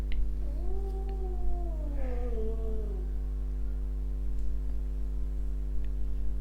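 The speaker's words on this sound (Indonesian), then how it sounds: "kucing Do itu denger lawannya, itu musuhnya tuh" Cats caterwaul at a rival cat, one long wavering yowl that rises and bends downward over a few seconds, followed by quieter faint cries against a steady low hum.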